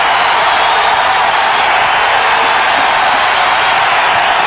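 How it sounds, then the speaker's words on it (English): A basketball arena crowd roars and cheers in a loud, dense, unbroken wash of noise that holds steady throughout. "Listen to the crowd."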